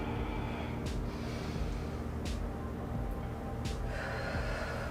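Deep breaths during a morning yoga stretch, with three long, airy exhales spaced a little over a second apart over a steady background bed.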